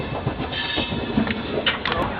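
The Sachkhand Express rumbles along the rails beneath a bridge, a steady dense roar with faint clickety-clack and a brief high squeal near the end, continuous and fairly loud, without speech.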